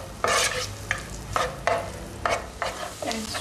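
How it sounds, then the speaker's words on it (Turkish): Finely chopped onion and garlic sautéing in melted butter for a Turkish soup, with a steady close sizzle broken by about six rhythmic bursts of stirring scrapes in the pan. "Şimdi ince kıydığımız soğan ve sarımsak ekliyoruz. Soğan şeklini tamamen kaybedene kadar kavuruyoruz."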